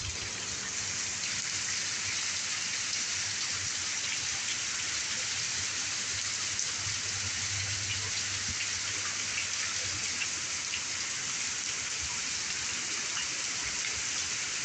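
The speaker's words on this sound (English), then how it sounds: "It's really pouring." Heavy rain pouring down on a flooded town street, a dense, unbroken hiss of falling water at a steady moderate level throughout, with a faint low rumble partway through.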